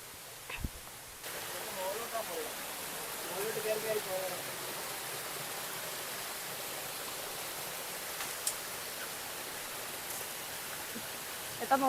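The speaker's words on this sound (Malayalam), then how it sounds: "ഇതാണോ നീ പറഞ്ഞ വെള്ളച്ചാട്ടം?" A waterfall at Ponmudi in monsoon season gives a steady, broadband rush of falling water that runs through the whole clip at moderate level, with brief handling knocks and faint movement near the start.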